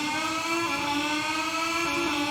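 A motorcycle engine in the MotoGP 21 game revs at the race start on the Red Bull Ring grid, a steady loud buzzing drone held throughout with no talk.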